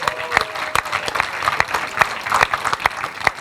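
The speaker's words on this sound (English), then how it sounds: "So indulge me and give him a round of applause for doing it." Audience clapping at a movie premiere, thinner than a full ovation, with many distinct individual claps standing out in an uneven patter that stays fairly close and carries on throughout.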